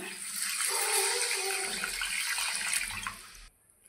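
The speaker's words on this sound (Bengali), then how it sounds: "এখন আমি দিয়ে দেব জল। দিয়ে দিচ্ছি ঝোলের জল।" Water pours in a steady splashing stream into a pan of spiced Bengali bata fish curry, running loud and continuous for about three seconds before stopping abruptly.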